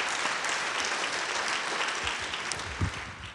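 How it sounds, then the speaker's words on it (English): Conference audience applauding the reporters, a dense burst of clapping from a hall full of people that holds steady and then starts to thin out toward the end. "Please, a round of applause for our reporters."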